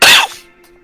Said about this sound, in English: I'm probably gonna be coughing a lot because I was running.